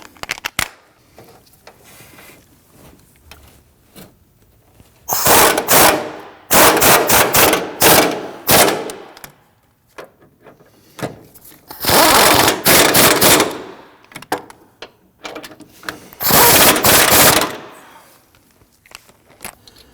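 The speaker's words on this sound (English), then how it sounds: "Let's go ahead and tighten down those 3 big bolts." Power tool bursts tightening the three large bolts on a replacement motor mount for a 2010-2019 Ford Taurus 3.5L V6, rattling in repeated loud bursts of about one to two seconds separated by quiet pauses.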